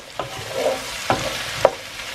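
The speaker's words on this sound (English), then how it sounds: "So we continue to fry until they get golden" Onions with whole black pepper fry in a pan under a soft, steady sizzle, broken by three sharp scrapes of a stirring utensil spaced about half a second apart.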